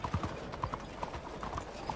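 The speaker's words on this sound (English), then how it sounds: "Cavalo, mano." Hooves clip-clop at a walk in Red Dead Redemption 2, a quiet, uneven patter of hoof steps in a town with faint background ambience.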